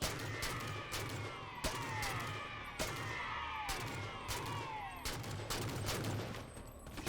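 In the Halo 4 video game, gunfire rings out as repeated sharp shots and bursts over a dense battle din, with several loud cracks spaced across the clip.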